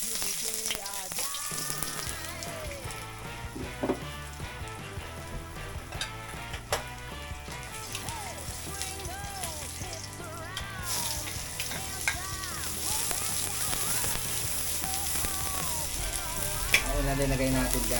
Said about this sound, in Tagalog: Ngayon naman, magigisa na tayo.